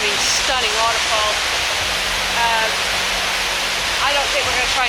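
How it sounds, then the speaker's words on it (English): A waterfall on the Four Waterfalls Trail in the Brecon Beacons roars as a steady, broad rush of falling water that fills the whole clip, with voices talking faintly underneath. "stunning, stunning waterfall."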